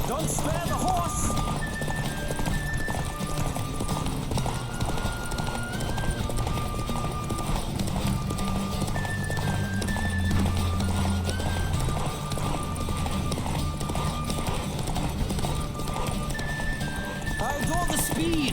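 Hooves of a horse galloping in The Witcher 3: Wild Hunt, a steady drumming clip-clop with occasional whinnies over a continuous game soundscape and music, with voices speaking now and then.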